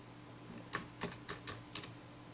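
Keys clacking on a computer keyboard while a line of code is edited, a handful of separate crisp keystrokes spaced irregularly over a steady low hum, close and fairly quiet, with no voices.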